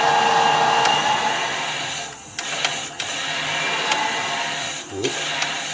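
A wood lathe runs steadily with a continuous whirring hum while being set up for screw cutting an adapter for a wood lathe chuck, with a few brief clicks and knocks over the motor and a voice speaking briefly near the end.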